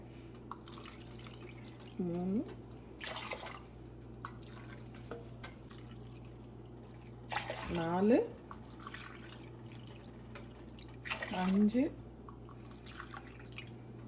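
Tamarind water is poured by the tumbler into a pot for one-pot rice, three separate pours each rising in pitch as the vessel fills, while a person counts aloud between them.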